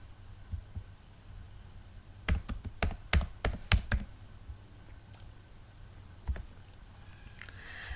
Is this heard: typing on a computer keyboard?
yes